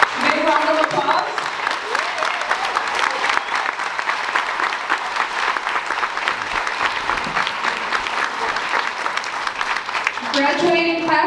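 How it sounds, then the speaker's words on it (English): Sustained applause from a graduation ceremony audience, thick continuous clapping for several seconds, with voices briefly audible at the start and end. "Big round of applause."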